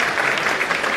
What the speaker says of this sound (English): Clap for Nigeria.